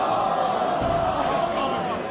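Crowd at a pro wrestling event pressing against barriers, a steady loud roar and chatter of many people that continues throughout, with a low thump partway through.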